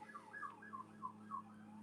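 Police and ambulance sirens wail outside in the distance, a repeating rising-and-falling tone heard faintly over a steady low hum, with no talking.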